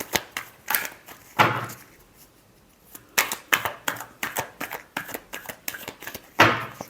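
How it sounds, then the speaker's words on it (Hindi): Tarot cards are shuffled by hand in quick bursts of crisp riffling and slapping, a short flurry, a pause, then a longer run of rapid clustered flicks, close and clear with no talking. "Last shuffle."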